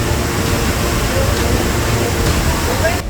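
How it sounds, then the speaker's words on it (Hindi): Floodwater surges through the Hanuman waterfall at Shahpur, a dense, steady roar of rushing water that fills the whole clip at high, unbroken loudness. "शाहपुर के हनुमान झरने में जब ये सैलाब आया"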